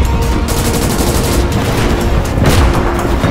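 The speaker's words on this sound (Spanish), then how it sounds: "Intercambiando disparos con el Panzer IV." Dense, continuous gunfire with heavy booming blasts in a loud World War II video game battle against a Panzer IV tank, shots overlapping rapidly without pause.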